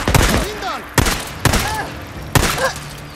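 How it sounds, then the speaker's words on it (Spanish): Several loud, sharp gunshots in Days Gone spaced about half a second to a second apart, each with a brief echoing tail, close and punchy. "le dio un balazo bien bonito en la jeta y no se murió"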